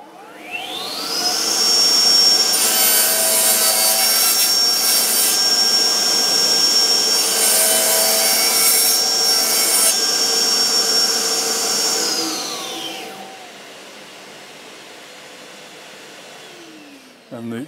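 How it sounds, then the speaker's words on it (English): Festool CTSC extractor starts automatically with a saw, a loud steady vacuum whine with the saw cutting wood over it, then winding down while the extractor keeps running more quietly before switching off. "starting the machine, and then the extractor starts automatically"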